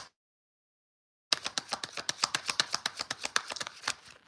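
Tarot cards are shuffled in a rapid, steady run of close, crisp riffling flutters that start abruptly after a moment of silence, with no voices.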